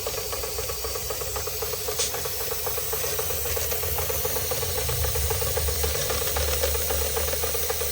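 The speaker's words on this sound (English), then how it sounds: "Releasing steam before it gets to the red." A Marklin 16051 twin-cylinder model steam engine runs steadily, giving off a continuous hiss of released steam over a low mechanical chuff and rattle, close and fairly loud throughout.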